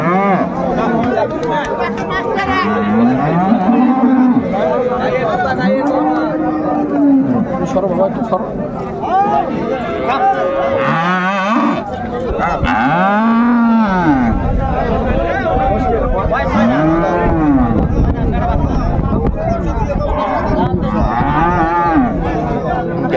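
Dairy cows and calves of improved breed moo again and again across a busy cattle market in Raniganj, Dinajpur, long bellowing calls coming every few seconds over constant crowd chatter and voices.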